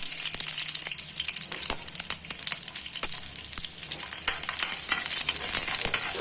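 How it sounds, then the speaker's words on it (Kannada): Ten garlic cloves frying in two spoons of oil in a pan, a close, busy sizzle with crackling pops and light clicks of stirring, steady throughout with no voices. "ಒಂದು ಪ್ಯಾನ್ ಇಟ್ಕೊಂಡು 2 ಚಮಚ ಎಣ್ಣೆ ಹಾಕ್ಕೊಂಡು ಅದಕ್ಕೆ ಒಂದು 10 ಎಸಳು ಬೆಳ್ಳುಳ್ಳಿ ಹಾಕ್ಕೊಂಡು ಹುರ್ಕೋಬೇಕು"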